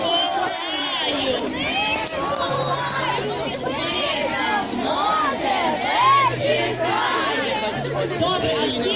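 A large crowd, many of them children, shouts and chatters together continuously at a Saint Nicholas festival, a dense, lively roar of overlapping voices.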